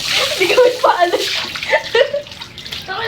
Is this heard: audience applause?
no